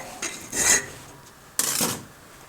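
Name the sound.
filing a handmade folding knife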